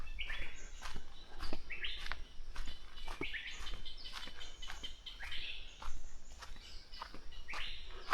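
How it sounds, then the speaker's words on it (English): Birds chirp and call repeatedly in an island jungle on Koh Kood, Thailand, with bright overlapping tweets over a steady bed of insect buzz and rustling ambience, fairly close and continuous. "The insects buzzing, the birds chirping."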